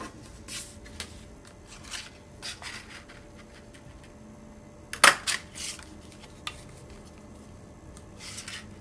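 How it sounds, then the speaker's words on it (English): An EK Tools 2-inch circle punch cuts packaging stickers: quiet rustling and light clicks, then one sharp, crunchy snap halfway through, followed by a few smaller clicks. "I just find it super easy to cut my packaging stickers into perfect"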